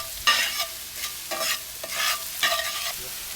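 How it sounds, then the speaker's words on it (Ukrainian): Onion and garlic fry in a hot pan with oil, soft sizzling broken by several scraping stirs of a utensil at an uneven pace. "Висипаємо смажитись цибулю і часник."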